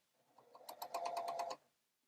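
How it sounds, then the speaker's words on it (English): A sewing machine stitching bias trim along the edge of a liturgical vestment, a short close run of rapid even stitching pulses that speeds up, then stops, with no talking. "now I'm going to stitch the bias trim that I previously made along the edge of the vestment"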